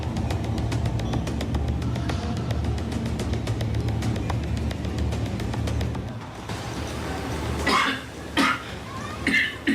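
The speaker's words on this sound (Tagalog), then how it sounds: "Dili na ordinaryo ang ubo sa akong bana." A man coughs in harsh bursts toward the end, after a stretch of steady engine-like background noise.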